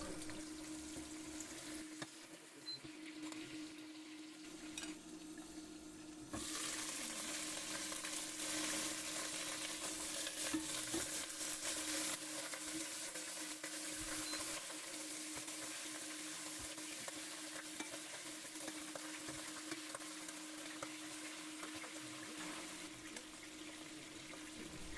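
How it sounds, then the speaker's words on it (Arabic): Chicken frying in oil in a pan gives a continuous, fairly quiet sizzle. It swells louder after a few seconds and holds steady with no talking. "ولا نحط الدجاج يتحمر لي شويه"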